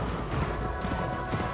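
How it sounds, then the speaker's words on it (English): Horse hooves in Astral Chain clop along under a dense, rumbling game soundscape, a steady trotting patter that stays fairly quiet and mixed with background noise, with no talk. "Oh, this is clearly more of a horse."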